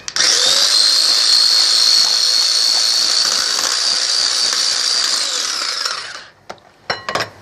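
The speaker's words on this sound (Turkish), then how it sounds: "3 tane yumurta ve 1 çay bardağı şekerle bunu bir güzel karıştırıyoruz öncelikle" Three eggs and sugar being beaten for Turkish revani, a loud steady electric mixer whine running continuously for about six seconds, then stopping, followed by a few brief clattering knocks.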